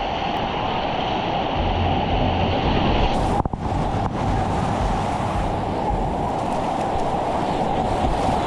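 Broadband rushing water and wind while paddling a Dagger RX6.7 kayak down a river, steady and close throughout, with a brief splash or knock near the middle and no talking.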